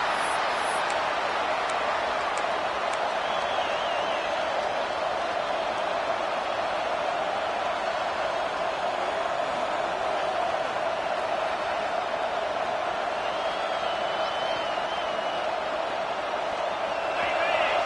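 A football stadium crowd at a Georgia Tech versus Florida game roars steadily on third down, a continuous loud wash of massed voices with a commentator talking over it.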